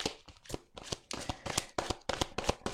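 Tarot cards being shuffled for a reading, a quick close series of crisp riffling flicks and taps, about a dozen in under three seconds, with no talk.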